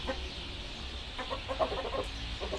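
Chickens cluck in a farmyard at dinnertime, with short clucks scattered irregularly over a low background hum, fairly close and moderately loud.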